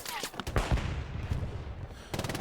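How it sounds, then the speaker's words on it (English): Machine gun fire rattles through a Hell Let Loose esports battle on Hill 400, sharp cracking bursts layered over dense, continuous battlefield noise, loud and close, with a short lull before another burst near the end. "Is that still Arthur with the MG up there?"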